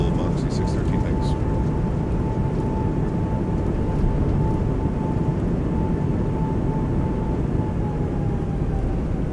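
An Airbus A220 on landing rollout, a steady loud broadband roar of thrust reversers and airflow filling the cockpit, with a faint tone running through it and brief voices near the start.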